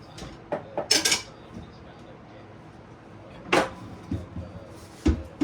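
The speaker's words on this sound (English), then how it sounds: "let's get another small bowl here" Small bowls and dishes clatter while ingredients are prepared for pecan-crusted chicken in a home kitchen: a few sharp knocks and clinks in brief clusters, close by, with quiet gaps between.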